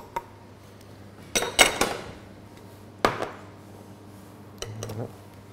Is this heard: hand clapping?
no